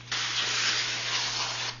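Cooking spray hisses onto parchment paper in one continuous burst of nearly two seconds, close and steady, in a home kitchen while making a meat-crust pizza.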